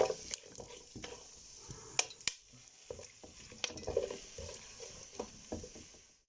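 Cinnamon, cardamom, cloves and bay leaves toasting in a pot, heard as a quiet dry crackle with intermittent stirring clicks and scrapes, close and sparse.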